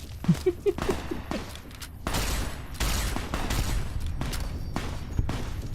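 Gunfire in Fallout: New Vegas, with a series of sharp shots and thuds at the start followed by a sustained, dense roar of firing, with muffled voices at moments underneath.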